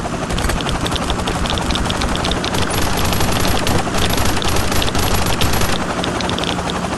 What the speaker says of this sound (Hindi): तो फटाफट से हेली को फोड़ते हैं और उसके बाद देखते हैं इससे अपने को क्या मिलता है।